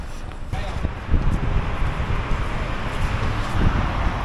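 Broadband cold wind in Saudi Arabia rushes and buffets against the microphone throughout, steady with occasional stronger gusts.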